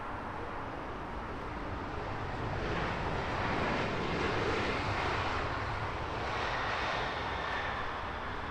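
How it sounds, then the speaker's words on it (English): An Airbus A380 taxis at Heathrow Airport in the early morning, its jet engines giving a loud, steady broadband roar that swells slightly in the middle and holds without letting up, with no voices. "A380 taxiing out from"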